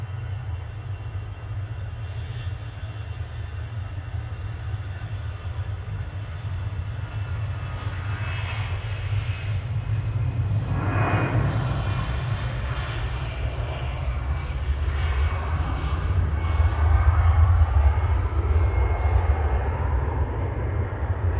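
An EasyJet passenger jet at Manchester Airport produces a steady roar of engine noise that swells louder toward the end.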